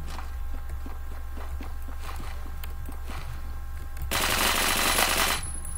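Rapid gunfire from a weapon in the Phantom Forces shooter game, a burst of quick repeated shots over steady background game noise, ending in a loud dense blast of sustained fire.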